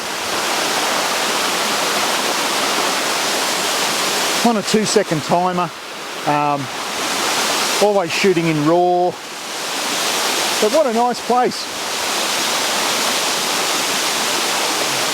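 A waterfall pours with a steady, dense rush of white noise throughout, close and unbroken, while someone talks in short bursts over it.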